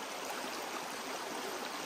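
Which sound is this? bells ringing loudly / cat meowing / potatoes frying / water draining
water draining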